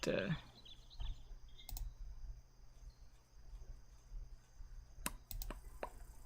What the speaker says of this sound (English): Why do I keep clicking the wrong thing?